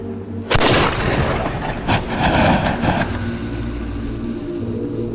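Small cannon fires with a loud close boom, then a second blast follows about a second later, each trailing off into a rumbling echo over low background noise.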